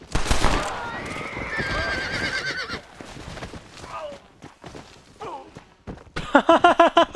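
A horse in the Red Dead Redemption game neighs loudly up close, with hoof clip-clops and other game sounds around it, and a sharp run of rhythmic hoofbeats at the end.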